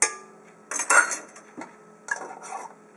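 Three teaspoons of yeast go into a mixing bowl, with a few bright clinks and scrapes of a spoon against the bowl in short bursts. There is no talk.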